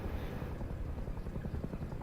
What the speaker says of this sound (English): This patrol helicopter keeps coming